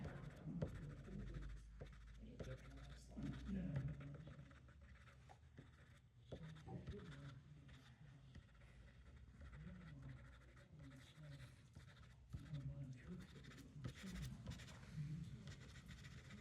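Pastel sticks scratch across paper in soft, repeated strokes, close and faint, with irregular rhythm and quiet room noise.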